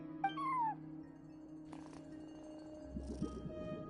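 A cat meows at the front desk in Genshin Impact, a short rising-and-falling meow near the start, followed later by softer chirpy murmurs over a steady low ambient hum.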